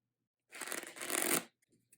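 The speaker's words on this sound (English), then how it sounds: "first you want to shuffle your cards" A deck of playing cards is riffle-shuffled once close up, a quick fluttering rush of about a second, followed by a few soft taps as the cards settle.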